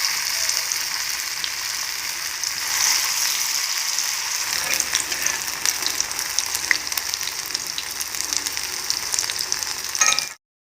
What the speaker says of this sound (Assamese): কেৰাহীত মিঠাতেল গৰম হোৱাত মই চামুচেৰে এনেদৰে পকৰি এটা এটাকৈ দি ভাজি ল'ম।